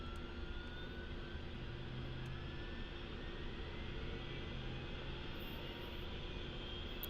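A helicopter engine in a flight simulator game drones steadily and evenly at moderate loudness throughout, with no talking.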